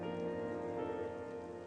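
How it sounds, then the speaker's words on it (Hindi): Heavy rain falling steadily, a continuous dense patter on surfaces that stays even and moderately loud for the whole short stretch, with no voices. "कितनी तेज बारिश हो रही है।"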